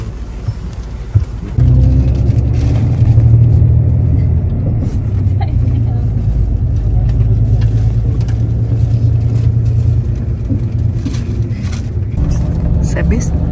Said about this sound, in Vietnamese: Xe buýt vừa ghé trạm thứ 5, còn 3 trạm nữa.